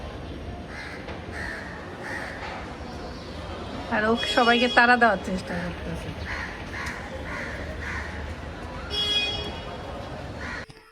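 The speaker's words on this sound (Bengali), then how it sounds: "কাকগুলো ভয় পাচ্ছে ওকে দেখে, এই দেখেন সব কাক এক জায়গায় হয়েছে" Loud, harsh crow caws burst out in a cluster near the middle as crows gather in one spot, with scattered calls before and after, while a person talks throughout.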